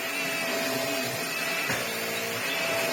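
Steady, continuous Vax Air Stretch vacuum cleaner motor drone with a thin high-pitched whine running throughout, close and constant.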